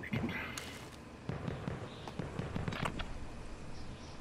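Gunfire in Call of Duty Warzone comes as a few muffled, distant shots under someone talking through a game chat.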